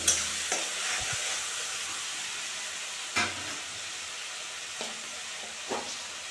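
Chopped tomato and spices frying for a rohu fish curry, a steady soft sizzle with a few sharp stirring clatters scattered throughout, no voices.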